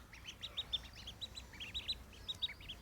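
Ducklings just out of the water peep in quick, high-pitched bursts, several overlapping in an irregular chatter, faint and steady with no talking.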